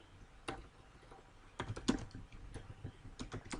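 Computer keyboard typing while entering a BGP configuration for a Cisco router, in quiet uneven bursts of key clicks with short pauses between them, close and fairly soft, no voices.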